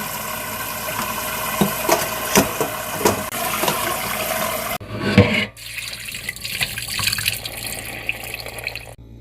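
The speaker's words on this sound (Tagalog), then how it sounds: "kailangan banlawan natin ng malamig na tubig ang ating tangmyeon" Glass noodles (dangmyeon) being rinsed under cold tap water, a steady splashing stream into a sink with a brief louder surge midway, then continued running water.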